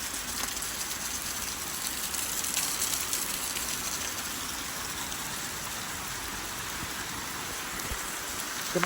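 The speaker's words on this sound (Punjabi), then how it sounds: "ਹੁਣ ਜਿੰਨੀ ਸਪੀਡ ਚਾਹੀਦੀ ਮੀਂਹ ਦੀ ਹੁਣ ਸਪੀਡ ਹੋਈ" Heavy village rainfall pours down steadily and loudly, a dense continuous hiss of drops with a faint rushing of overflowing water beneath, unbroken for the whole stretch and with no voices.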